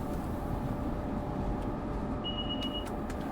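An ALP-46 electric locomotive running in Train Sim World 6 on the Morristown Line, giving a steady low rumble and hum with a brief high cab tone and a few faint clicks, continuous and even.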